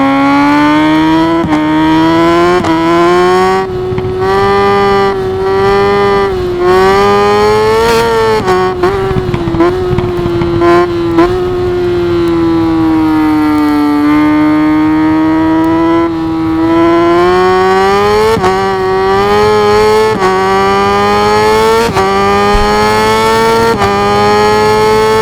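A Kawasaki ZX10R superbike in the racing game RIDE 5 screams at high revs for the whole stretch, its engine note rising and falling steadily through gear changes, loud and continuous with no talk over it.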